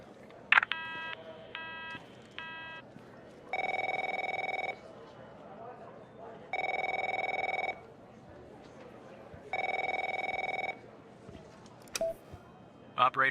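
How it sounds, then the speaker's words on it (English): Telephone ringing inside The Operator video game, three long steady electronic ring bursts spaced a few seconds apart, preceded by short beeping tones, with speech elsewhere in the clip. "My phone's ringing off the hook here."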